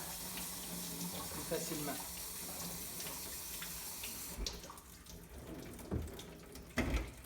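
Water runs from an extendable faucet into a kitchen sink in a steady splashing hiss, then gives way to a few clunks and splashes, with a voice speaking briefly.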